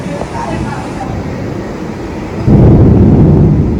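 A thunderstorm with strong wind blows in a loud, continuous roar with low rumbling that swells even stronger partway through.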